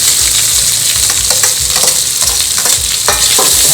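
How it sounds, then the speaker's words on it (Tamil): Onion, potato and peas are sautéed in a pan with ginger, slit green chillies and curry leaves. A loud, continuous sizzle fills the sound, broken by scraping stirs from a spoon, with no voices. "லைட்டாக வதக்கிப்போம்"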